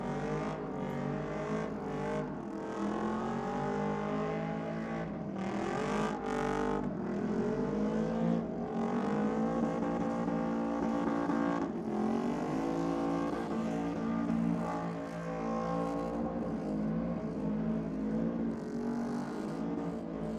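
A car doing a skid at Sydney Dragway, with its engine held at high, wavering revs and tire noise throughout a long continuous run, loud and close.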